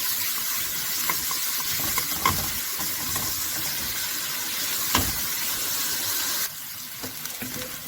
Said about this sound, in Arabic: بس الزبده كده ما قدحت هنزل بمعلقه ثوم كبيره بالشكل ده